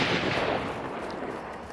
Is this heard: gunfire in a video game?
yes